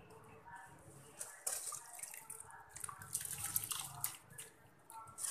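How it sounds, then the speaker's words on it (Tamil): Rice being washed in water for chicken soup, with faint splashing, swishing and dripping sounds in a quiet kitchen, irregular and close. "இப்போ நம்ம ரைஸை கழுவி இதில் போட்டுடலாம்."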